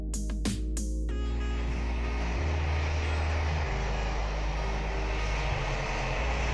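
Boeing 737 engines taxiing in the Roblox game PTFS give a steady droning whine with a low hum underneath, after a few short clicks at the start, with no talk.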